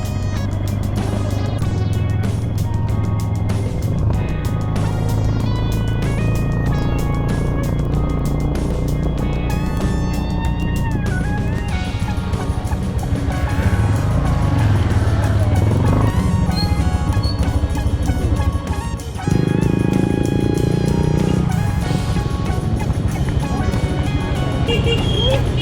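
Bajaj 175cc tuk-tuk on the road in Siquijor, its engine droning steadily throughout the ride with shifting revs and road noise, while music plays over it.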